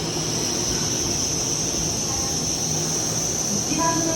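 A Shinkansen bullet train rumbles at a station platform, a steady dense roar with a high whine, ending in faint squeals near the close.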